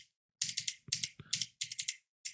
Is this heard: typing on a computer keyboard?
yes